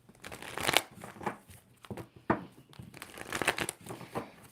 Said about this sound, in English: Two more shuffles for Aquarius.